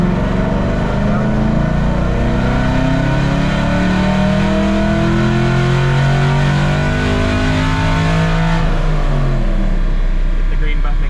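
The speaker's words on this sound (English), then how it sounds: "Vehicle up to 2500 RPMs." Car engine on a dynamometer held at about 2500 RPM, a loud steady roar of engine and rollers, with a person talking over it.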